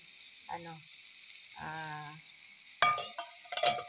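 A cauliflower egg omelette sizzling in a covered pan, a steady hiss of frying close by, with a few tonal beeps early on and clattering lid or utensil knocks near the end.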